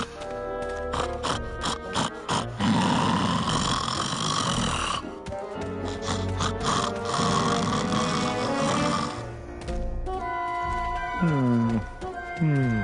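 A character in the Grim Fandango video game snores loudly and repeatedly, with long rattling breaths and snorts, a game soundtrack and voices running underneath throughout.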